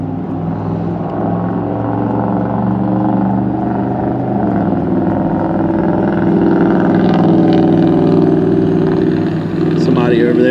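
A loud pickup truck engine drones steadily nearby, a deep continuous rumble that swells slightly toward the end, with no talking.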